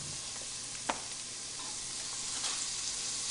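Garlic sizzles in a pan with browning ground meat, a faint steady frying hiss broken by a sharp utensil tap and soft stirring scrapes, no talking.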